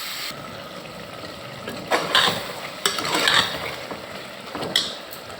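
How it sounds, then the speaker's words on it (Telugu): Cleaned mutton fries in a pan under a soft, continuous sizzle, broken by several sharp scraping clanks as a spatula stirs it, close by with no talking. "ఇలా మంచిగా వేగనియాలి మటన్"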